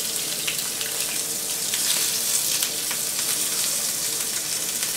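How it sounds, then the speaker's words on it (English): A fish fillet frying in a hot pan, a steady, dense hiss and crackle of oil heard up close, continuous with no talking. "So I just hold down the fish for the initial few seconds as it starts to cook"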